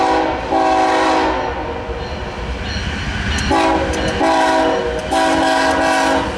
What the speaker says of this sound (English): 264 is a BNSF intermodal train.